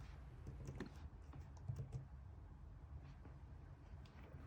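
Faint, quiet taps on an iPad's on-screen keyboard as a login ID and password are entered, a scattered run of soft clicks over low background hum with no one talking.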